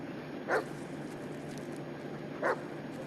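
Two brief, evenly spaced yips from Bullet, the dog in the Blair Witch game, rise over a steady ambient hum with no voices.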